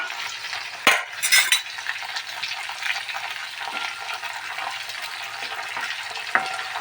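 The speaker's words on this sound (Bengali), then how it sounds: "গ্যাসটাকে লো করে দিলাম এগুলোকে ভাজা দিয়ে দেবো" Pointed gourd frying in a pan over low gas, a steady soft sizzle throughout with a couple of brief clattering stirs of a utensil near the start; no talking.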